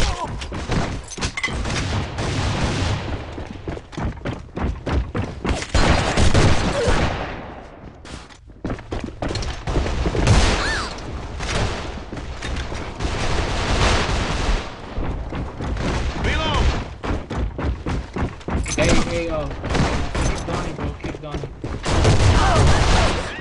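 Dense, rapid gunfire from a P226 pistol and other weapons fills a match in the online shooter AVA, with loud repeated shots and bangs while players talk over it.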